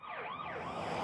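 A short burst of a police car siren sound effect gives a quick rising and falling electronic wail, steady and clear with nothing else heard.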